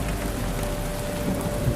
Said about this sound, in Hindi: अचानक आसमान से बिन मौसमी बारिश शुरू हुई